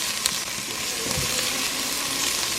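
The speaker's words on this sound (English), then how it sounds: "You're going to let these saute in there for like a minute." Chopped onion and celery sauteing in a pan, giving a steady, moderate sizzle with no talk over it.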